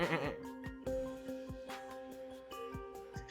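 A voice imitates a sheep, giving a series of short nasal bleats, several in a row across a few seconds, fairly close and distinct, with little other sound around them.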